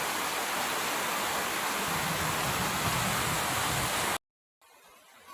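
Heavy rain pours outside during a thunderstorm as a loud, dense, unbroken hiss, then cuts off abruptly near the end, followed by quieter room tone.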